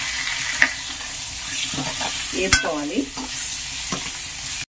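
Garlic and cumin seeds fry in hot oil in a pan for an old-style fish curry, a steady sizzle broken by a few clattering stirs and scrapes, with one short spoken word over it.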